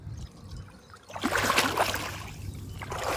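Water sloshing and splashing as someone wades through deep monsoon floodwater while out crab catching in the rain, quiet at first and then swelling into steady, close splashing that continues to the end.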